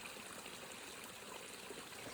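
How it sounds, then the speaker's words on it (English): A babbling brook flows steadily, a continuous soft trickle and gurgle of water heard close and quiet throughout. "May the sound of the brook and the green"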